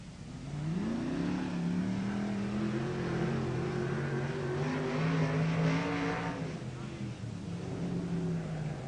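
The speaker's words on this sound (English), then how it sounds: "Out comes Bob Jackson onto the racetrack" A sprint car engine drones on the Newcastle Motordrome racetrack, its tone rising and falling as it accelerates and eases off. The sound is steady and moderately distant, with a commentator talking over it.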